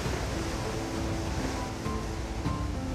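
Ocean surf rolls in at Narrabeen beach, a steady broadband wash of breaking waves with wind, moderately loud and continuous, with no voices.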